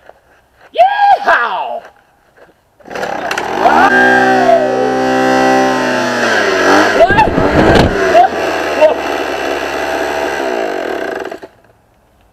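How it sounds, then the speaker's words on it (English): A leaf blower starts up and then runs steadily at a loud, close drone for several seconds with shifting pitch before cutting off, after a short shouted exclamation from a voice. "let's get this blower started"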